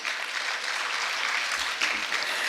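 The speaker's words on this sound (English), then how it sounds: "Applause please." Steady applause from an audience at a women entrepreneurs' meeting in Mangaluru, a dense, even wash of clapping with no voices over it.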